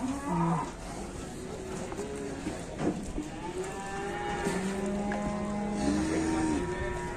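Several cattle moo at a market, long low calls overlapping one another, close by against a busy outdoor background.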